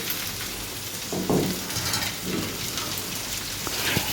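Ivy gourd fries with onions in hot coconut oil in a pan, with a constant close sizzle and occasional scraping and turning sounds as it is stirred.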